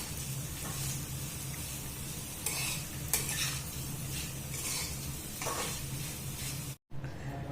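Raw banana slices and garlic dusted with chili powder fry in a pan with a steady, close sizzle, broken by scraping stirs and a brief silent gap near the end.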